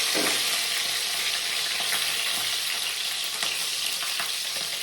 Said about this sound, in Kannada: ಎಣ್ಣೆ ಕಾದ್ಮೇಲೆ ಈಗ ಸ್ವಲ್ಪ ಹಸಿಮೆಣಸಿನ್ಕಾಯಿಗಳನ್ನ ಹಾಕೋಬೇಕು